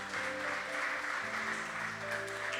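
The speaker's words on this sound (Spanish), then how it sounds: "Démosle un fuerte aplauso al Señor" Congregation applauding inside a church, a steady wash of clapping filling the room with a low sustained hum beneath it, no voices standing out.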